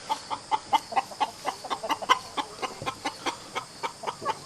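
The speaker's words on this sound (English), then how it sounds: "the hens are going nuts in the coop" Hens clucking in a coop in a steady, rapid rhythm, repeated short calls close by and fairly loud, with no talking.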